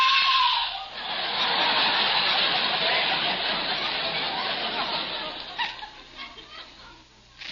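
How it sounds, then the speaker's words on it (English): A woman screams as a radio comedy sound effect, a sustained high, shrill cry that fades out after several seconds into a brief bit of lower noise. "Suddenly I hear a woman scream."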